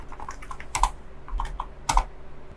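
Keys clacking on a computer keyboard while an email address is entered, a few light taps then two sharper bursts of keystrokes, close and fairly clear, with no talking.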